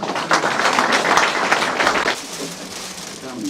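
Audience applause at a regional arts federation year-end award ceremony for a singer, a dense burst of clapping that swells early and then thins out toward the end.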